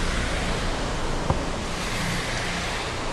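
River cascade rushing in a dense, unbroken wash of water noise, loud and near for the full few seconds, with a single brief tick partway through and no speech.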